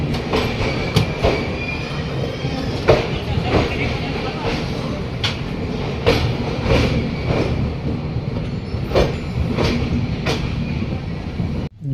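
The 12446 Uttar Sampark Kranti Express from Shree Mata Vaishno Devi Katra to New Delhi rolls along the rails, with loud steady rumbling, rhythmic clickety-clack wheel beats and occasional squeals heard close from inside a coach.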